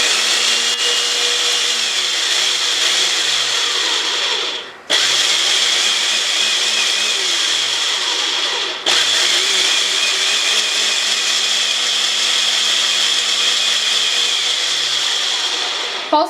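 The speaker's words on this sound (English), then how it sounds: "Pulse it until you break up all the raspberries in there." Blender pulsing raspberries with sugar, three loud bursts of whirring motor separated by brief pauses as it stops and restarts, close and steady with no talk.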